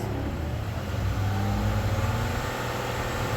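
A car engine idled up to roughly 2,000–3,000 RPM during a battery and alternator charging check, holding a steady, loud mid-range drone throughout with no voices.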